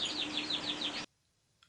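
Java sparrows chirping in a breeding setup, a quick run of bright repeated chirps for about a second, then near silence with one faint final chirp.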